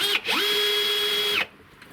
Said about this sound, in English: the old Bosch drill is handling all this rain.